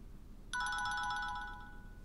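A telephone ringtone sounds once: a short, bright electronic ring that starts abruptly, holds briefly, then fades against a quiet room background.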